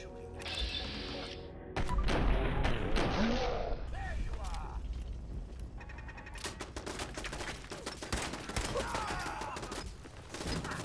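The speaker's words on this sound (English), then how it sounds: "Someone is shooting." Gunfire in the post-apocalyptic shooter Fallout 4: repeated loud bursts and sharp shots crackle through a busy combat soundscape, with crashes and mechanical clatter and a voice speaking between the shots.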